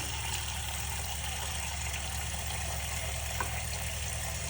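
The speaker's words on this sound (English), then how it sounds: "I'm just gonna let the water fill up the sink a little bit." Tap water runs steadily into a plugged sink, a constant close rushing wash with no break or talk.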